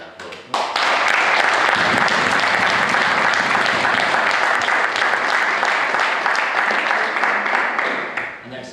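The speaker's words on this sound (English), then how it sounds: "So I just want to give a big applause." Audience breaks into sudden, loud applause at an event, many hands clapping steadily for several seconds before it tapers off.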